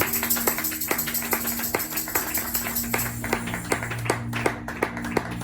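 A church congregation claps together in a steady rhythm, sharp hand claps sounding fairly close over a continuous low hum.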